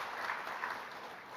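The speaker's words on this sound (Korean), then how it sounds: "우리 정은교 선교사님을 위해서 뜨거운 감사의 박수 드리십니다" A church congregation applauds a visiting missionary with steady, even clapping from many hands, fairly soft and heard throughout with no talking over it.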